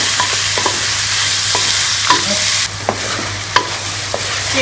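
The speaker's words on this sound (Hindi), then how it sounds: "चिकन को कलर चेंज होने तक हम फ्राई कर लेंगे।" Chicken pieces frying with onions in a pan for chicken macaroni, a loud continuous sizzle punctuated by sharp spatula stirs and scrapes at an irregular pace.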